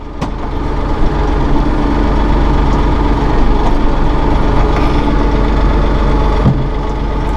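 A 2016 Massey Ferguson 1736 compact tractor with a cab runs steadily at close range, its engine giving a loud, continuous low rumble with no pauses across the clip.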